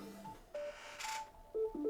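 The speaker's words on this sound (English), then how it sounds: "Okay, stupid alarm, go away." A phone alarm sounds quietly in short electronic beeps and tones, fairly faint against a hissy background with no talk.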